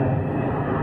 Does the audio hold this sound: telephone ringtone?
no